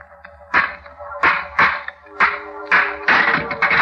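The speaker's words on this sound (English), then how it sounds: "Smashed the lock." A stone strikes an old rusty lock on a door, producing about seven sharp, close knocks in an uneven rhythm, each with a brief ringing decay.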